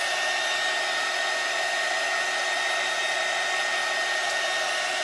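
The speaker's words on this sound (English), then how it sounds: "So I'm just going to take my little dryer tool and hit it with this." A loud, steady whooshing drone of a heat drying tool blowing continuously up close, with a faint high whine.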